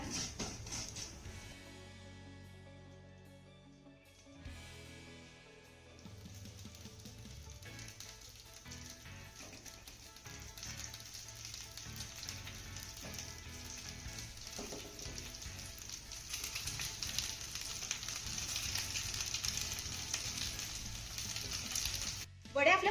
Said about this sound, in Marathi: लो फ्लेमवरती आपल्याला या वड्या तीन ते चार मिनिटं छान अशा परतून घ्यायच्या